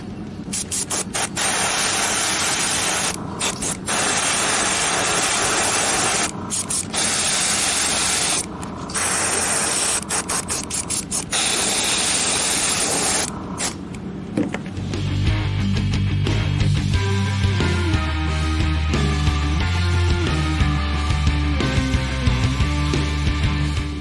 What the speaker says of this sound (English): Had some issues with the airbrush when we got to the lighter color. It decided to clog up and do some spitting.